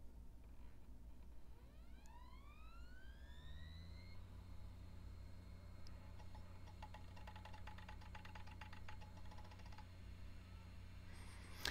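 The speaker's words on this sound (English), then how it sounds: "So you slide your Jaz cartridge into the front of the unit" An Iomega Jaz drive spins up after a cartridge slides in, its motor whine rising steadily in pitch over a few seconds, then settling into a steady hum with faint clicks, alone and close.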